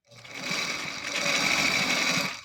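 A sewing machine stitches a bra underwire casing in a steady, fast whirring run of about two seconds. It is close and moderately quiet, and no voices are heard.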